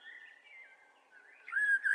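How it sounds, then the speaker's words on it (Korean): A single bird sings faintly in a quiet setting, its thin whistling notes wavering before rising into brighter, sharper chirps. "새 소리가 아름답지 않으신가요?"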